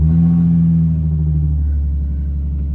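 A straight-piped drift car idles loud and close in the snow right after starting, its deep rumbling exhaust note steady and throbbing, with no talk over it.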